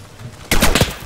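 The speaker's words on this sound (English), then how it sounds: "We're being shot. From behind us." Sudden burst of gunfire in the video game Insurgency, a loud, close crackle of several rapid shots breaking in after a quiet start.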